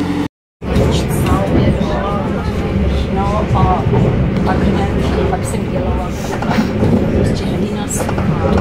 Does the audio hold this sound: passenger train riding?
yes